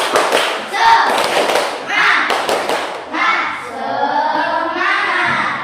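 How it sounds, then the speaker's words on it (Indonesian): An Indonesian primary classroom does a rhythmic 'tepuk semangat' clapping routine, with sharp, loud claps in patterned bursts mixed with children chanting along. "Pak Guru akan mengajak kalian untuk melakukan tepuk semangat agar lebih semangat lagi dalam pembelajaran."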